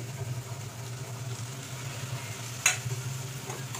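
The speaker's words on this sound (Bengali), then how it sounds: "এবার মশলাটা কষাই একটু ভালো করে" Masala for a red potato curry (aloo dum) fries in a pan and is stirred. There is a soft continuous sizzle, a low steady hum underneath and one sharper scrape partway through.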